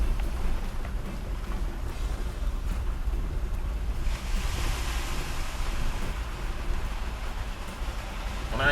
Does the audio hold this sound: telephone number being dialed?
no